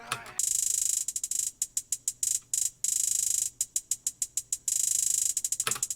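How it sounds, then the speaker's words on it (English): A glitchy, stuttering hyperpop hi-hat pattern: bursts of bright hissy noise chopped into rapid irregular ticks, alternating with longer sustained washes. "The hi-hat needs to sound like a broken sprinkler."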